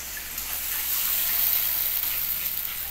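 Paneer gravy with water added to a hot pan, stirred continuously, giving a steady broad hiss of sizzling liquid with no pauses, close and moderately loud.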